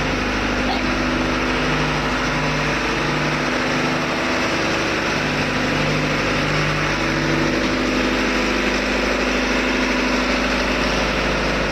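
A ship's main engine runs in the engine room during repair and maintenance work on its fuel gearbox amid a power outage. It gives a loud, steady, continuous drone with a throbbing hum that fills the whole stretch, and no clear talk.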